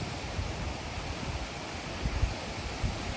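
A waterfall in Iceland roars steadily as a dense, even rush of water noise with low rumbling swells, unbroken and fairly distant for the whole stretch.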